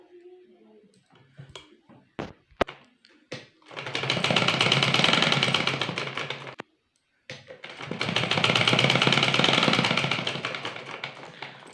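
A sewing machine stitches a petticoat drawstring of folded fabric in two long steady runs of rapid whirring, preceded by a few taps and clicks, close and loud.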